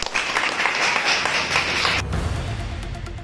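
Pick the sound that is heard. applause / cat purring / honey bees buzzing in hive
applause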